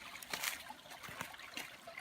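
Shallow water trickles and burbles in a small, partly overgrown creek below a house in summer, a faint, soft, continuous babble heard alone.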